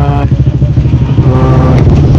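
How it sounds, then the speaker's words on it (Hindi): A motorcycle engine revs hard and steadily while stuck on a steep, dangerous mountain climb near an isolated village, a loud, continuous throaty drone with a faint voice underneath. "ये बाइक एक और बाइक यहाँ पर फंस चुका है, और ये मुमताज भाई का बाइक आकर निकल चुका है।"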